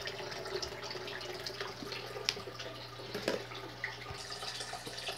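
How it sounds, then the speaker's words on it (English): Water runs steadily into a betta fish tank as it fills, a soft continuous splashing with a few louder plops and sloshes, fairly quiet and with no voices. "now I've filled my tank"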